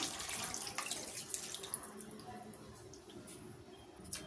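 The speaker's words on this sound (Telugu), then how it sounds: "ఇలాంటి గ్లాస్తో 1 గ్లాస్ వాటర్ వేసుకుందాం మనం." A glass of water pours into mutton curry for a Telangana-style dish, giving a steady, close, wet splashing stream that runs the whole time, with a few faint clinks and no talk.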